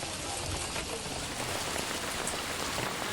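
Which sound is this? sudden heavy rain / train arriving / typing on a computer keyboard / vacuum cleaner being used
sudden heavy rain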